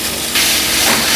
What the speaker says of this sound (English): So we'll be going in with our beef.